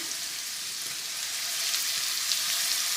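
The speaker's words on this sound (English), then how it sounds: "So let's go ahead and add this garlic in." Garlic hits a hot frying pan for a chicken Marsala sauce, giving a steady, close, fairly loud sizzle and crackle that swells slightly as it settles, with no voices over it.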